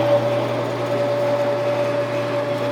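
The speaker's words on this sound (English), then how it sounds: "all the noise you're hearing is actually" A plastic gear runs against a drive wheel inside a freshly painted machine, giving a steady mechanical whir with a constant high whine over a low hum, even and continuous throughout.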